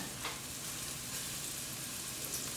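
Salmon pieces sizzling in a frying pan while browning, a dense, steady crackling hiss with small spits and pops, close and even throughout, no voices.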